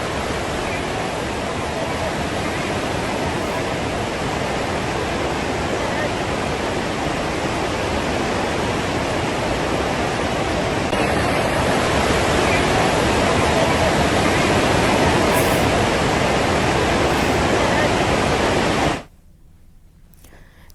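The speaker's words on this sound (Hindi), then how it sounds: "तेज मिट्टी और पानी का बहाव परिसर में घुसता नजर आया" Flash flood of mud and water pouring into an immigration complex at the Tibet–Nepal border, a dense continuous roaring rush that swells slightly midway, then cuts to a quieter tail near the end.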